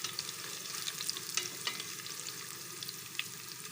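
Chilies fry in hot oil in a pan while being stirred, giving a soft, continuous sizzle with scattered crackles and scraping clicks from the spoon, close and fairly quiet.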